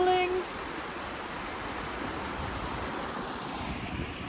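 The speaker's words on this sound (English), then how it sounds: "A nice little river going on this side." A small mountain river flows along an offroad route near Cotopaxi, Ecuador, a steady broadband rushing wash heard throughout at moderate distance, mixed with some wind.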